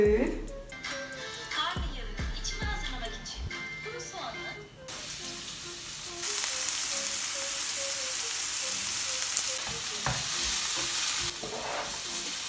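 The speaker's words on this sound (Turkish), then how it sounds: "tamam patlıcanlar kızardı" Continuous crackling sizzle of eggplant frying in a pan, with utensil scraping and stirring early on and the hiss growing louder midway.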